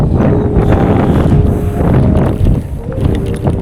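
Strong wind buffets the microphone in a steady, rumbling roar that fills the whole clip, with faint voices underneath.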